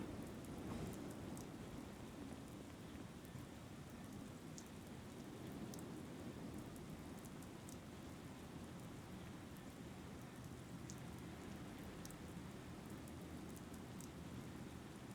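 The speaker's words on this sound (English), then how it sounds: "It's raining again." Steady rain falls continuously in the video game The Moment of Silence, with a low rumble underneath, an even, sustained wash of sound with no voices.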